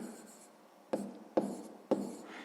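Pen strokes writing out a sixth-grade math fraction solution on paper, three distinct scratchy bursts close up, each a short rasp after quiet pauses.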